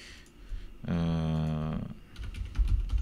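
Fast typing on a computer keyboard, a quick run of quiet key taps on either side of a steady tonal hum in the middle, with no talk.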